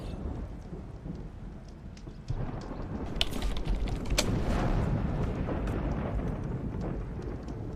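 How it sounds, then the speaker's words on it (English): A thunderstorm in the video game Horizon Forbidden West: steady rain hiss and rumbling thunder swell louder midway, with a few sharp crackles on top. No voices are heard. "Storm is ontzettend luid."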